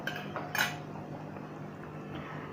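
A metal spoon scrapes and clinks against a pan while egg curry is served out into a dish, with one sharper clang among soft, quiet scraping.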